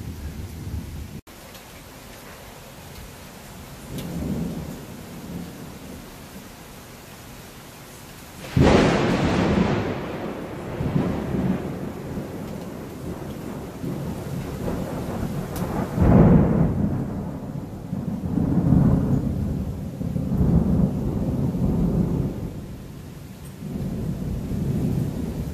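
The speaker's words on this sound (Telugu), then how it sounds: "వర్షం అయితే బాగా పడుతుంది" Heavy afternoon rain with thunder during a dark storm in the USA, a steady rain hiss broken by loud rumbling thunderclaps, the biggest roll arriving midway and further rumbles following, with no talking.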